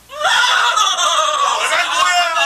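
A horse in an Iraqi comedy sketch gives a loud, wavering whinny lasting about two seconds, close and prominent.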